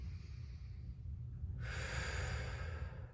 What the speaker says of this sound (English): be mindful of your breathing